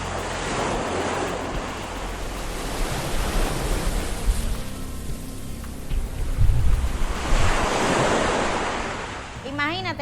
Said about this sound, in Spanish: tú ves el agua del mar ahí, el agua tú lo ves ahí y por encima del muro